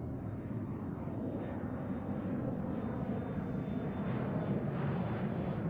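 An airliner climbing out after departure from Seattle-Tacoma airport, a broad steady jet roar that swells slightly as it passes, distant and continuous with no talk.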